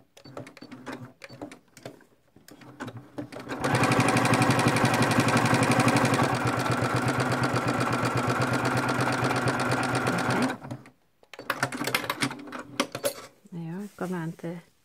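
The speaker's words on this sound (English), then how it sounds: "So we're just going to do some straight stitching now" A sewing machine stitches fabric on a fabric ATC in one loud, steady, fast run lasting several seconds. Shorter bursts of stitching and handling noise come before and after it, with a voice speaking briefly near the end.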